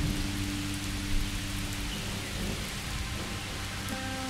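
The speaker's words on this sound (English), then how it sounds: "usually the rain means something real bad is about to happen" Steady rain in the survival video game Miscreated falls as a dense, continuous hiss over low rumbling, with no voices.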